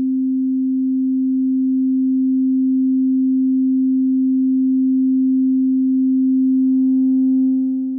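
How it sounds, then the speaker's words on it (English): Sustained sine test tone through an Arturia Dist TUBE Culture distortion plugin with drive and bias raised, a steady low hum that gains faint upper harmonics near the end, with no talking. "Turn up a bit of drive and bias."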